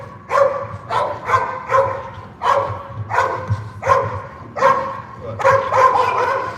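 A dog barks in repeated sharp bursts during bitework training with a decoy, roughly one bark every half second to second, loud and close, with a brief spoken word mixed in.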